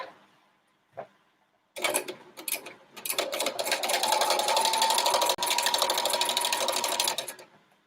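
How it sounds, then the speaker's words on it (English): A sewing machine stitches pieced quilt units for a windmill block, running in a steady, fast continuous burr for several seconds after a brief start-stop, close and alone with no talking. "Just be careful when you are sewing near pins that you don't drive over the pin with your machine."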